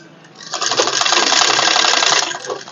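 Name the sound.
sewing machine stitching a suit collar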